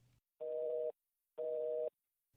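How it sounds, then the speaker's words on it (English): A telephone busy signal sounds in clear, evenly spaced half-second tones separated by silences, steady and alone. "Still, just a busy signal."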